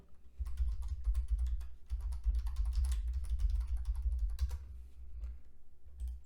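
Someone types a search query on a computer keyboard in a steady flurry of close, soft clicks, with a few short pauses between bursts and no voices.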